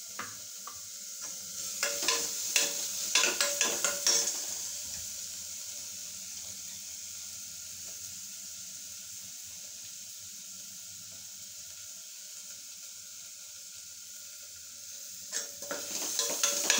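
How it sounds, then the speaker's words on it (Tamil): Curd-marinated mutton dropped into hot oil for a white mutton kurma, giving a steady close sizzle with a burst of louder clattering stirring early on and again near the end. "போட்டு எண்ணெயிலையே ஒரு 3 நிமிஷம் அப்படியே வேகட்டும்"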